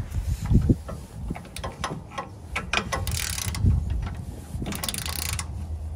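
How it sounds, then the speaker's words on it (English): A wrench loosening bolts on an electric trailer jack makes close, uneven ratcheting clicks and metallic creaks, with brief pauses between turns. "And now I'm just gonna unscrew these 3 bolts here."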